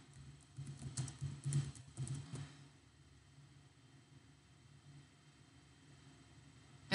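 Keys on a computer keyboard are tapped in a quick, faint burst of clicks lasting a couple of seconds before the room falls quiet.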